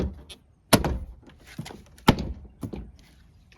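Two sharp plastic thunks, with a few lighter knocks between them, as a BMW 1 Series (E87) door card trim is hit to clip it into place against the door.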